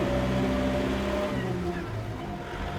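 A Kubota MU5502 tractor carrying a water tank drives along a road, its engine a loud, steady close drone with slight shifts in pitch, and no voices are heard.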